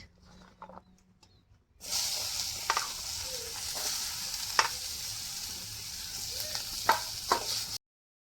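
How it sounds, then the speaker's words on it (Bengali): Onions frying in hot oil with whole cumin, garam masala, cloves, cinnamon and cardamom give a steady bright sizzle that starts abruptly after a quiet, clinking lead-in, broken by occasional stirring scrapes and pops before cutting off. "পেঁয়াজটা ভেজে নিয়েছি ভালো করে"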